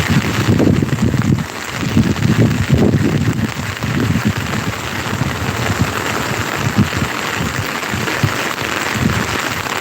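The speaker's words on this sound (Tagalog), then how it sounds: "umuulan pa rin ng malakas" Heavy rain pours outdoors during a typhoon in the Philippines, a dense, steady roar of falling water that stays loud and constant throughout, with low rumbling gusts swelling underneath.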